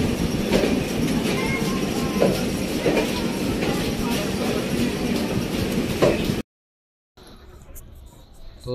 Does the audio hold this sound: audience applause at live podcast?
no